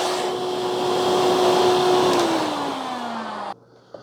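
A Pawaboo dog grooming vacuum dryer runs on its low speed setting with a steady motor whine, a tone that dips slightly in pitch before the blower cuts off abruptly near the end.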